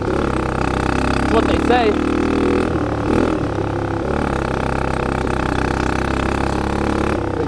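A dirt bike engine churns and revs while riding through snow, a steady mid-pitched drone with a brief rise in pitch, and a voice speaks briefly over it.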